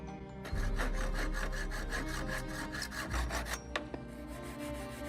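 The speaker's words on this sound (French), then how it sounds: "couper ce morceau avec la scie à main" A hand saw cuts through wood in quick, rhythmic back-and-forth strokes, close by, the rasping steady until the cut finishes.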